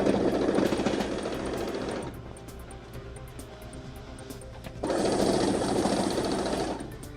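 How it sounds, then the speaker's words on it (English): A sewing machine runs in steady mechanical bursts while stitching binding around a biscuit quilt, whirring loudly, easing off slower for a few seconds, then speeding up again, close and without talk. "just continue to sew all the way around that"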